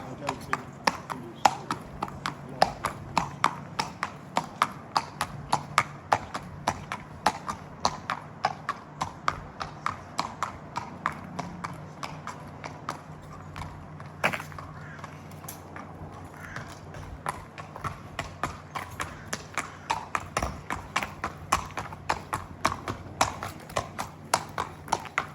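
Horses' hooves clip-clop at a steady walking rhythm across a racing stable yard, crisp close taps repeating throughout with a few faint creaks.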